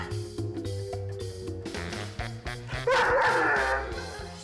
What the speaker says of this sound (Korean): 도리가 성에 차지 않는지 또다시 짖기 시작합니다.